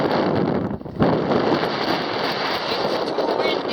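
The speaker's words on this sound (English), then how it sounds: "It's too windy and too cold." Strong wind on the Pico de Orizaba glacier buffets the microphone with a loud, steady roaring rush, briefly dipping about a second in before surging back, with no talk heard.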